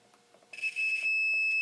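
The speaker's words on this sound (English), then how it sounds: "hopefully both of these things beep if the fuse completes the circuit" Multimeter continuity beep while testing a speaker protection fuse on a Fisher CA-880 amplifier, a single steady high-pitched tone that starts after faint clicks and holds loud and close to the end.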